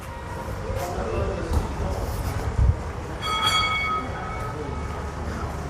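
Vintage tram in Brussels rolls and rumbles through a transit station, with a couple of clunks, a bright ringing tone partway through and people talking nearby.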